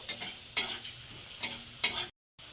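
Spices stirred and fried with flat beans and potatoes in a pan, a few spoon scrapes over a soft, steady sizzle, then a brief gap near the end.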